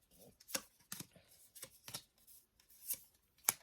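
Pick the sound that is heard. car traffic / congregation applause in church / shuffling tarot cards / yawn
shuffling tarot cards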